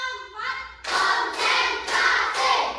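A classroom of students claps together on count in several quick rhythmic bursts, each a sharp block of overlapping hand claps. A teacher's voice calls out briefly just before the clapping starts.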